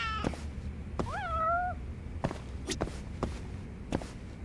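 A cat meows in a video game, one clear rising-and-falling call standing out over a steady run of soft footsteps, with a faint caterwaul at the start.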